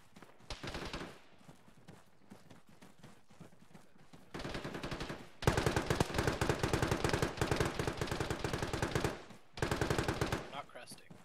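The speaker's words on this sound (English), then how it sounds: "We're taking fire from the buildings in Bravo's sector." Gunfire in a military video game: bursts of rapid automatic shots, close and loud, come in several long volleys separated by short gaps, with a few single cracks in the quieter stretches.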